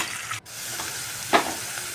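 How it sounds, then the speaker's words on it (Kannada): Chopped onion and green chillies frying in a little oil in a pressure cooker for village-style chicken sambar, a steady soft sizzle with a brief stirring scrape partway through. "ಹಾಕಿ ಸ್ವಲ್ಪ ಫ್ರೈ ಆಗಲಿ"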